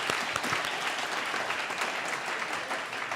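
A concert crowd at a 2014 event applauds in a full, continuous wash of clapping. A few louder individual claps stand out near the start, and the level stays even to the end.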